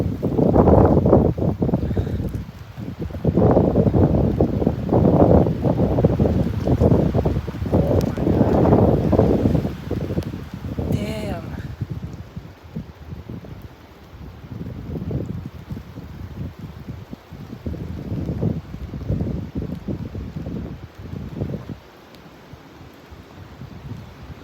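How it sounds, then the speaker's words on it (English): Strong wind gusts of up to 45 MPH roar through trees in loud surging waves, rising and falling with brief lulls between gusts, buffeting close against the microphone. "Oh, these wind gusts are quite strong."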